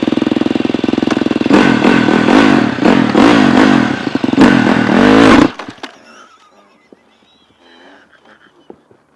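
A speedway motorcycle engine revs hard and loud in rising and falling bursts during a race start demonstration, then cuts off abruptly after about five seconds, leaving faint scattered clicks and quiet background.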